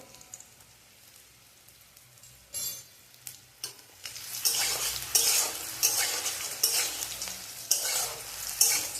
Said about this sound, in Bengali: আমি এখন ফোড়নটা দেব দিয়ে একটু ভেজে নিয়ে নামিয়ে নেব